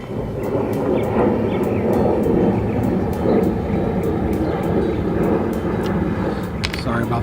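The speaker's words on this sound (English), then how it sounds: "Sorry about the airplane noise." Propeller aircraft passing overhead in a suburban outdoor setting, a steady broad rumble holding loud throughout, with faint intermittent clicks of small boat-light screws being handled nearby.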